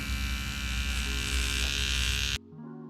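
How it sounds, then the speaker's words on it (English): An electric hair trimmer buzzes steadily and close, a dense constant hum that shifts pitch slightly midway, then cuts off abruptly, leaving a faint residual tone. "Overall, a really, really good trimmer."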